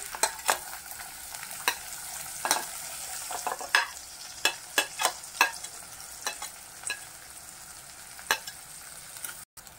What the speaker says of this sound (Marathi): सर्वात प्रथम आपण तेलामध्ये कांदा घालून घेऊया।